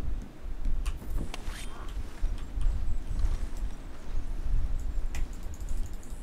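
Horse hooves clip-clop steadily in Red Dead Redemption, a continuous run of close hoofbeats over a low, rumbling bed, with no talking.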